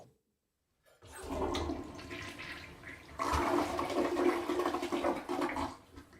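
A toilet flushes nearby, a rushing swirl of water that starts after a second of silence, surges again midway and drains off, with no talking.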